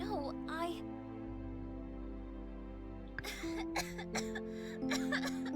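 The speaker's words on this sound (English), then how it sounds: "She was racked with another coughing fit." A female character coughs in the Cabin Fever video game, a short throaty burst that gives way to a wet, rattling coughing fit, heard clearly over the game's sustained music.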